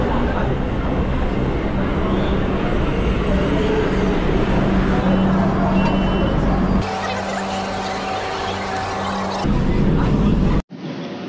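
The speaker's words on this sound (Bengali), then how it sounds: "আমাদের ট্রেনটা চলে এলো ময়দানে" A Kolkata Metro train pulls into Maidan station, heard from inside the carriage: a loud, steady rumble and roar that shifts in tone midway, then cuts off abruptly near the end.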